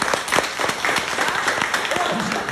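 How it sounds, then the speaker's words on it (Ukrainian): Audience at a business presentation breaking into applause, many hands clapping in a steady close patter with a few louder individual claps and faint voices underneath. "Аплодисменти"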